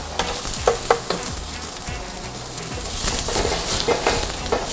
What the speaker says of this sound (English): we first fry the vegetables